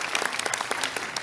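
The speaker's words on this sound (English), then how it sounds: "give yourself a round of applause" Audience applause at a corporate data and AI forum event, a short burst of many hands clapping densely and steadily at moderate volume without voices over it.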